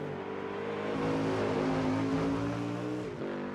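A GT3 race car engine holds a steady, loud drone with strong harmonic tones that rise slightly in pitch, then dips briefly and climbs again near the end, with no voices.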